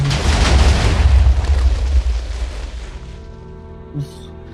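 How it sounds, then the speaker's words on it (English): Bombs blowing up a UFO build in Minecraft on the Dream SMP server: a loud, rumbling explosion with heavy low-end booming that fades over about three seconds, followed by quieter game tones and a small pop. "he presses this lever, and bombs away. His whole UFO exploded"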